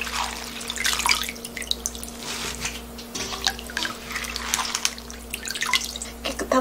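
Water drips and trickles from freshly rinsed winter greens (dongcho) as they drain after a final rinse, soft irregular drops and splashes close by over a low steady hum.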